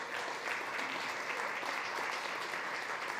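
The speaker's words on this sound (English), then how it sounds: "Please give it a round of applause." A crowd at a food summit claps steadily and evenly for a few seconds, a dense wash of moderate applause with no voices on top.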